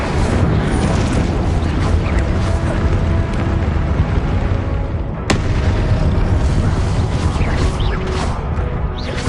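Incendio fire spell cast in Hogwarts Legacy, a dense, continuous roaring burst of flame and rumbling impacts with one sharp crack midway, loud and sustained throughout.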